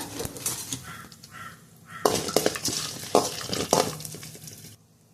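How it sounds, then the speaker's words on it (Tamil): Pepper and cumin lightly frying in a pan, a soft sizzle under scraping and stirring, with some clinks of the pan, before it cuts to near silence at the end. "மிளகு தேவையான அளவு, சீரகம் தேவையான அளவு எல்லாமே போட்டு லைட்டாக பொரிச்சிக்கோங்க"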